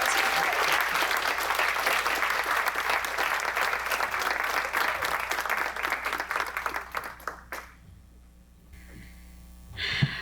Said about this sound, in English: Let's give them a round of applause to celebrate their incredible impact.